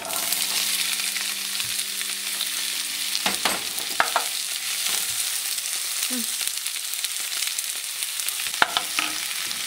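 Chopped onion frying in oil with garlic, a continuous close sizzle marked by occasional scraping stirs and sharp clicks, while a low steady hum fades out early on.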